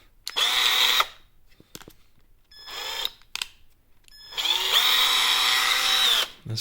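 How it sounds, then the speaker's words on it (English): Hyper Tough 20V cordless drill whirring at full speed in three close, loud bursts, with a short rev, a longer one, and a sustained run near the end, steady high-pitched motor whine with brief pauses between. "Okay, so here's the drill."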